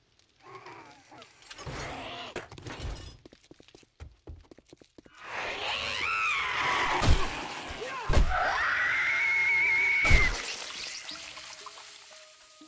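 A screamer zombie in the survival game 7 Days to Die lets out a long, loud, wavering scream after a stretch of clattering and thuds, with sharp impacts breaking across it and a voice talking nearby.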